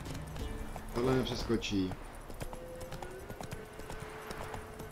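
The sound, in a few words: horse hooves in video game The Witcher 3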